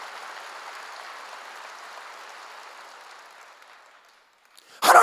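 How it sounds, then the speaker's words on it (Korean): Congregation in a church service clapping steadily as a broad, sustained patter that fades over several seconds, followed by a sudden loud burst at the end. "박수 세게 치세요."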